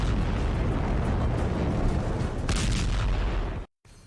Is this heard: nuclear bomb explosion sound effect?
yes